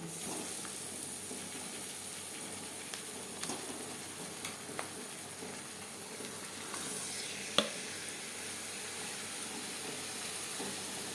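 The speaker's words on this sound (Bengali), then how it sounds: "পেঁয়াজ ভাজা হয়ে এসছে এই পর্যায়ে দিয়ে দেব ম্যারিনেট করে রাখা চিকেন" Marinated chicken dropped into a pan of fried onions for a chicken curry, giving a steady low sizzle and hiss with a few small pops and stirring scrapes.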